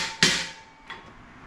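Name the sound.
hammering a shelf tab into its hole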